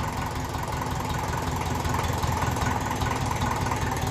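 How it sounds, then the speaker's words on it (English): A 1954 Ferguson TEF 20 diesel tractor idling close by, a steady knocking diesel chug whose revs drift slightly up and down throughout, with no voices. "it's definitely going up and down on the revs a bit"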